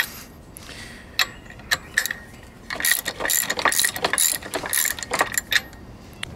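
Ratchet on a 3/4 drive, long handle, tightening a steel target mount onto wood: a few isolated clicks, then a dense run of rapid metallic ratcheting clicks, close and moderately loud.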